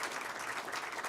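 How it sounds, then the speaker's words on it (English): Audience applause at a Murray State College media announcement, a short steady wash of clapping with no voices over it. "Will you give them a round of applause?"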